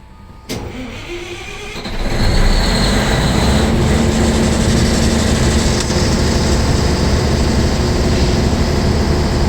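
A diesel generator set (unit 2) in a synchronizing setup cranks and fires up shortly after the start, then settles into a loud, steady running drone with a low rumble that holds for the rest of the clip, no voices.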